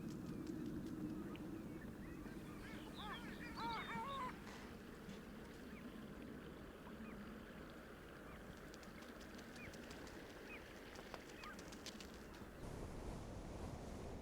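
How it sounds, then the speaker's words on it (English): Faint honking calls of greater white-fronted geese rise briefly in the distance over a steady wash of wind and outdoor background noise in Utqiagvik, Alaska. "And there were plenty more greater white-fronted geese."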